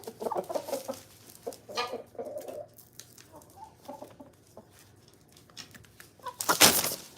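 Chickens cluck in short, irregular bursts close by, quiet murmuring clucks with a sudden loud squawk near the end.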